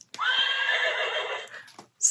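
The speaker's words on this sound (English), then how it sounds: "Neigh! They go like that." A single loud, drawn-out horse neigh on a farm, close and clear, lasting over a second before trailing off, with a brief sound starting right after.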